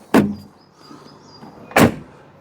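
Two firm thuds, the rear door of a Vauxhall Astra 1.7 TD hatchback slamming shut, each sharp and close, with a faint whirring hum between them.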